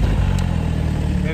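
Snowmobile engine starting in the snowy backcountry, a loud, close rumbling motor running steadily through the short moment, with a voice heard over it.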